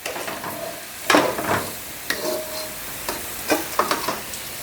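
Eggplant and soya fry in an oil-filled pan, a low sizzle under several sharp scrapes and knocks as a spatula stirs the pieces.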